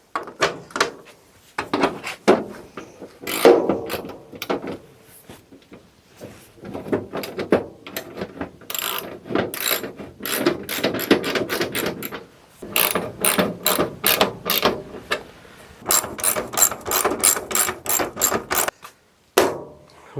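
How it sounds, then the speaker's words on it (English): Ratchet wrench driving bolts during a repair job: bursts of rapid clicking pawl strokes, repeated in runs with short pauses between, close and fairly loud, no talking. "Now I'm gonna go back here and try and get some more bolts in."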